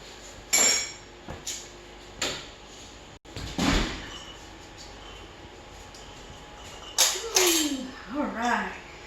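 Glass canning jars clink and knock as they come out of an oven during a butter-canning session, with a few sharp, scattered taps spread across the moment and a brief voice near the end.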